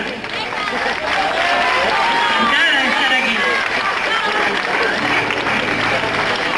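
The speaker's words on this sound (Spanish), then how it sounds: "Un aplauso también a las chicas del coro" Dense, steady applause from a school audience fills the space continuously, with cheering voices and a few spoken Spanish words mixed underneath.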